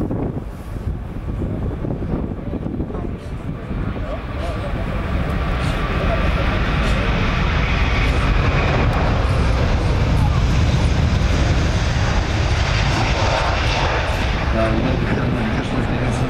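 An Airbus A380 airliner takes off from the main runway at the ILA 2006 airshow, a loud, continuous jet roar that builds and holds with wind buffeting, under an announcer's voice.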